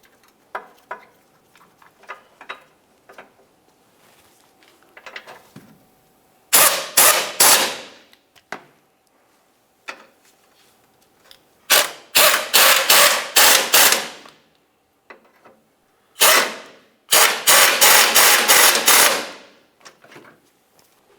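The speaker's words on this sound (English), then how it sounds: "Start in all three of your mounting bolts," Mounting bolts are driven in on the front bumper bracket of a 2000-2006 Chevy Tahoe, heard as loud, rapid rattling bursts from a power tool, three main runs separated by quiet gaps with light clicks and handling noise.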